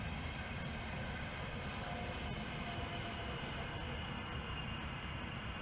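A train passes beside a fishing lake, a steady low rumble that stays even and fairly quiet throughout, with no talking over it.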